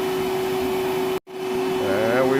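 A cordless Milwaukee M12 1.6 gallon wet/dry shop vacuum on a 12-volt battery runs at a steady loud hum with a tonal whine, cutting out briefly midway before spinning back up.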